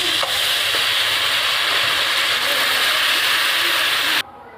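Tamarind water poured into a pan of lightly fried puti fish, producing a loud, continuous hiss and sizzle that cuts off abruptly near the end.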